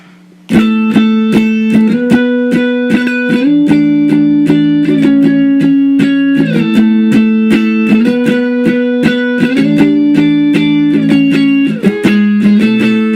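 A distorted electric guitar strums modified power chords for the chorus of a song, driving, loud and close, changing chords every couple of seconds with no talk.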